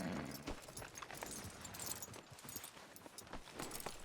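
Horse hooves clip-clop steadily in Red Dead Redemption 2, a close, continuous rhythm of hoofbeats over game ambience with a brief voice near the start.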